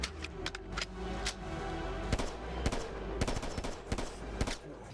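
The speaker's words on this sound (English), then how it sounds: "here's a cool little pistol from the pack" Pistol fire from a Ready or Not weapon pack in the video game Bonelab, sharp loud single shots at irregular intervals, some in quick pairs, close and without talk.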